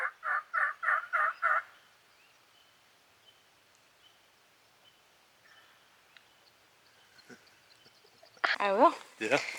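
A wild turkey gobbles in a quick series of loud, rattling bursts near the start, followed by a long hush of faint outdoor background; a person's voice comes in near the end.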